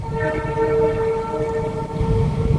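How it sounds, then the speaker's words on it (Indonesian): A train passes close to a house beside the railway in rural Central Java, a steady loud rumble with sustained tonal whine, continuous for a few seconds with no talk over it. "Sorry, ini ada suara kereta"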